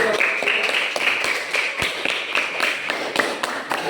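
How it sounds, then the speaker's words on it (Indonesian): Students in a classroom clap for a presenting group, a fairly small crowd producing steady, uneven claps close by, with faint voices underneath. "tepuk tangan dulu untuk hasil"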